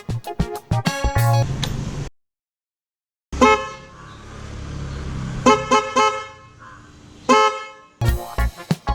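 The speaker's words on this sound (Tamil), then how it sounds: "இப்போ ஹாரன் அடித்து பார்க்கலாம்." A newly installed dual car horn wired through a relay honks loudly in repeated short blasts and a few longer ones, with a silent gap partway through.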